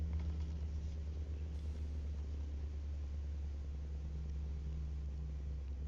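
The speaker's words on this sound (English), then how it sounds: "Oh, the engine rumbles make my feet go numb." Steady low engine rumble from a big truck in Euro Truck Simulator 2, a continuous deep drone at even volume with a faint hum riding above it, no voices.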